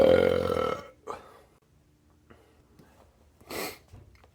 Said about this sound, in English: You can tell it's bubbly because it's making me fucking burp like crazy.